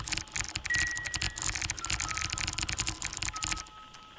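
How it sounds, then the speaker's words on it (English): Fast, dense clatter of computer keyboard keys at close range, nearly continuous with only brief pauses, with faint electronic tones underneath and an abrupt stop near the end. "I just started typing and nothing is happening."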